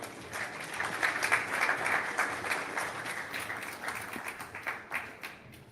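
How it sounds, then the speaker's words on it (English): An audience at a community listening session applauds Third Ward Commissioner Kelsey Perdue with a sustained, fairly distant clatter of clapping that thins toward a few scattered claps at the end. "Let's give her a round of applause"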